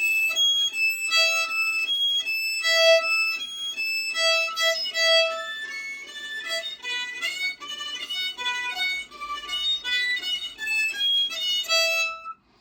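Thin, airy fiddle notes with a flutey, harmonic-like tone play a quick wandering melody, soft and breathy, with no voices.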